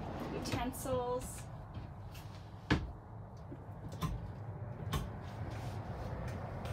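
A large kitchen drawer in a 2022 Xtreme Outdoors Little Guy Mini MAX camper trailer slides open with a few sharp clunks and rattles, heard close under a man's speech.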